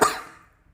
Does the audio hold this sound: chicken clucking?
no